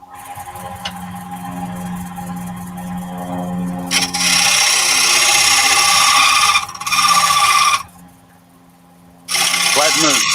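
A hand tool rasps and rubs against the tapered tenon of a wooden bowl in long, loud, close strokes with short pauses between passes, while people talk nearby.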